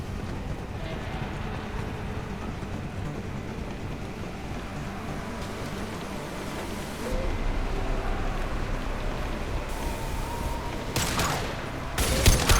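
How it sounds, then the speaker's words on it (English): Rapid gunfire from the video game Mass Effect 2 runs as a dense, continuous rattle, growing louder partway through and ending in a few sharper bursts, with game ambience underneath. "firing an impact shot!"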